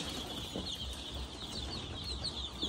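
Adler breed chickens and chicks cluck softly in a poultry pen among chicks offered for sale, a low scattered murmur of short calls over a constant background hiss, with no one talking.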